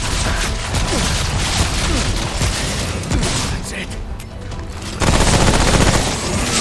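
Rapid automatic gunfire in the video game Remnant: From the Ashes, dense, loud bursts of shots rattling continuously and close, with a brief lull before an even louder volley resumes.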